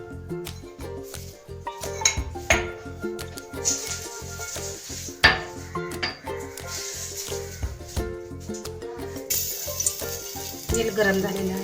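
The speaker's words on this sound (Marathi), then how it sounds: "आता त्याच्यामध्ये तेल टाकते." Oil heating in a hot pot for a Marathi-style dal tempering, giving a steady close sizzle and crackle with brief clinks of utensils throughout, no talking.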